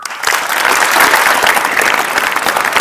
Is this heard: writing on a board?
no